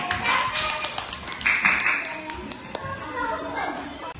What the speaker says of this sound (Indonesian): tepuk tangan untuk Erwin.